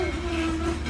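Southern Railway 630, a steam train at the Tennessee Valley Railroad Museum in East Chattanooga, pulls into the station with a steady, close rumble and a sustained squealing tone from the wheels.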